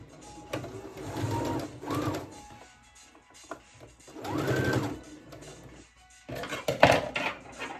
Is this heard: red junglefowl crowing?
no